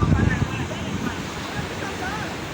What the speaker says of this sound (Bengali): ঢেউ আসতেছে আমাদের দিকে।